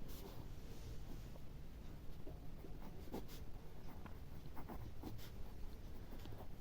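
Pen or chalk scratching out an answer by hand during a Hindi-medium Class 8 maths lesson, a steady close scraping with short strokes and taps running throughout over faint room noise, no voices.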